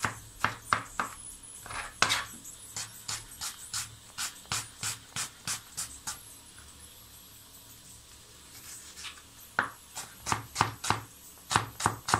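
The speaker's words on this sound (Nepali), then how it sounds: "आलु चपको लागि म चाहिँ प्याज कटिङ गर्दै छु है।" A knife chops onions on a board for aloo chop, about two dozen sharp, close knocks in quick rhythmic bursts with a pause in the middle, no talking.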